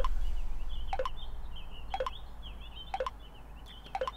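Repeating electronic notification tones from a phone receiving messages, four short two-note chirp bursts spaced about a second apart over a steady low hum, fairly quiet and close, with no talking.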